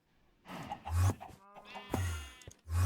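Sheep in the Minecraft game give several short bleats in quick succession, clear and close, with brief gaps of near silence between the cries and no speech over them.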